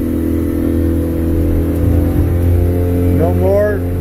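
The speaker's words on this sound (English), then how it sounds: "All right, I'm going to fire this main up." Main engine of a 2020 Hewescraft Sportsman boat running steadily at low revs near 1,000 rpm, a close, continuous engine drone with a slight rise in pitch toward the end.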